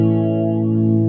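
A sustained, thick distorted electric guitar chord from a Zoom 505 effects processor rings out loudly and evenly, heavily saturated with a buzzing, effects-laden tone.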